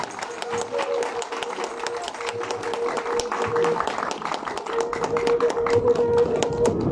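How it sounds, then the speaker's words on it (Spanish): Steady crowd applause at an institute inauguration in Santiago de Huari, Bolivia, with dense, rapid clapping throughout, a sustained tone running beneath, the clapping swelling slightly louder toward the end. "Recibamos un fuerte aplauso"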